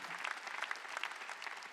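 Congregation claps together during a Christmas Sunday worship service at a church, a short burst of dense applause heard fairly faint and slightly distant.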